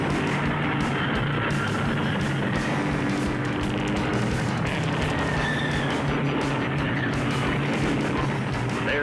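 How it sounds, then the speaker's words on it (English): Race cars at the 1960 Daytona 500 roar down to the finish line in a dense, continuous engine drone mixed with crowd noise, loud and sustained throughout. "And here they come roaring down to the finish line."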